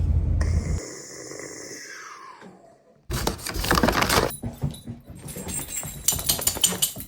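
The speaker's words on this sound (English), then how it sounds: "Who's a pretty dog?" A pet dog gives a long high whine that slides downward, then after a pause snuffles, snorts and moves about close by, with faint jangling.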